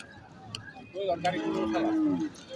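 A cow moos at a busy cattle market, one drawn-out, moderately close low call lasting over a second, with faint chatter and market noise around it.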